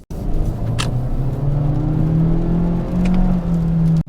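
A 2023 Honda CR-V's 1.5-litre engine paired with a CVT drones steadily under load, a harsh, coarse, sustained hum that holds one pitch and rises slightly, close and loud with no talking.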